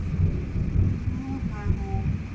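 Thunder rumbles low and continuously with steady rain as a storm approaches, while someone talks over the noise.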